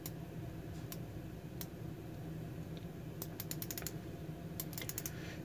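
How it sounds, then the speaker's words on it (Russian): Ceramic 60-click bezel on a SanMartin Tuna SN003-B3 dive watch turned by hand, giving quick bursts of small sharp ratchet clicks, clustered in short runs over a quiet background hum. "Безель на 60 кликов, то есть на каждую минуту."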